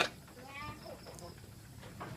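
Goats bleat on a goat farm in Krabi, Thailand, with a few wavering cries close by mixed with people talking and light farmyard background noise.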